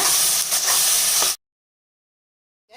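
Ginger garlic paste and ground onion masala sauté with a loud, bright hiss and sizzle for just over a second, then cut to silence before a faint sound returns at the end.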